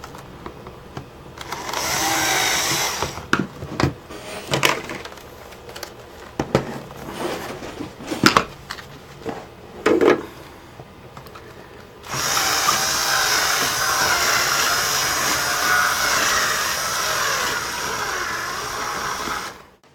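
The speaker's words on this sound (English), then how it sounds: "I'm just going to bring the drill in like a circular motion just to make the hole a little bit bigger" Power drill working a hole wider in a laptop casing, whirring in several short bursts and stops, then running loud and steady for a long stretch before cutting off.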